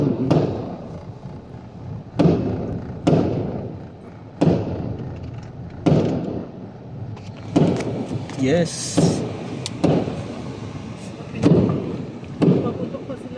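Repeated sharp booms of firecrackers going off at the EDSA Shrine during the February 2024 People Power anniversary, about a dozen spaced irregularly a second or two apart, with a voice speaking briefly between them.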